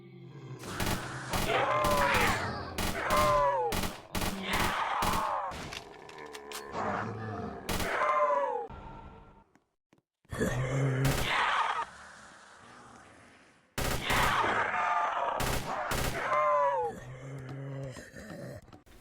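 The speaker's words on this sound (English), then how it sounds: "there's a modified fire sound." Carl-Gustaf M2 recoilless rifle firing in the Roblox game Project Lazarus with a modified fire sound, heavy booming shots repeating in loud bursts amid groaning zombie-like game noise, with a short lull midway.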